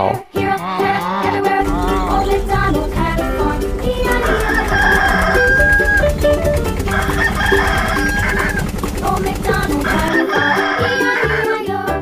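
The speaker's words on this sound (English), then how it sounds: "Rooster." Cartoon rooster crowing within a children's farm-animal song, the call set over loud, continuous music with a steady beat throughout.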